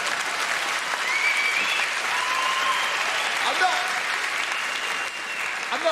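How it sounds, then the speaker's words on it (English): Sustained clapping from a comedy club audience at Micky Flanagan's Live at the Apollo set, a dense, continuous roar of hands with occasional cheers, holding steady throughout. "I wish I could understand why they're clapping."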